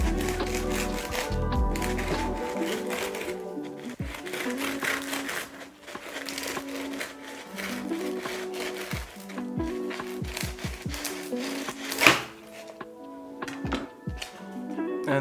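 Knife sawing through the crisp crust of a French baguette, a run of close crunchy rasps and crackles with brief pauses, a sharp louder crack near the end and background music underneath.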